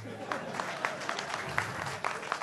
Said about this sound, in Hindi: क्यों भाई इतनी तालियां क्यों बजा रहे?